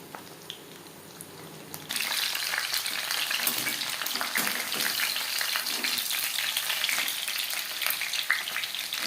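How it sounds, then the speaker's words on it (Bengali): After a faint quiet opening, chicken for satay drops into hot oil and a loud, crackling sizzle takes over, bubbling and popping steadily up close. "হাই ফ্লেমে তেল গরম করে নিয়েছি ভাজবো মিডিয়াম ফ্লেমে"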